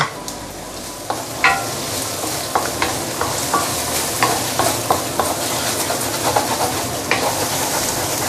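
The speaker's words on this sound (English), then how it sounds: "One reason why I like to use stainless steel wok is because I can always scrape the bottom like this" A spatula scrapes the bottom of a stainless steel wok in repeated sharp metallic strokes over a steady sizzle, as dry chili and spices stir-fry for braised pork leg. The sound is close and busy, and no one speaks.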